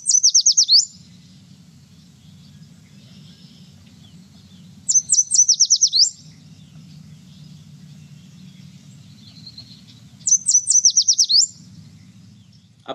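A recorded yellow warbler sings three bright, quick phrases of sweet rising notes, spaced several seconds apart, over a faint low background hum.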